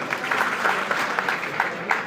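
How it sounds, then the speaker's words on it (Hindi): Applause from an audience at a company gathering, a lively burst of many hands clapping with audible individual claps poking through, close and steady, with no voices. "उनके सम्मान में एक बार जोरदार ताली हो जाए"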